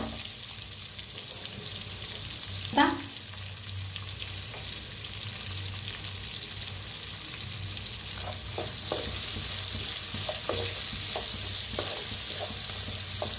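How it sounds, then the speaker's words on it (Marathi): Onion with turmeric fries in a pan for sambar, producing a continuous low sizzle, with a spoon scraping and stirring in occasional clicks and scrapes that grow busier toward the end. "त्याच्यात टाकूया थोडीशी हळद, त्याला बी असं भाजूया. ह्याच्यात टाकूया कांदा."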